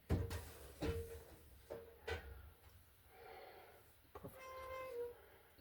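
A metal cover door on an electrical breaker panel, fitted after fixing a nuisance-tripping AFCI breaker for a microwave, shuts with several knocks and clanks in quick succession, followed by lighter rattles and a faint tonal ring.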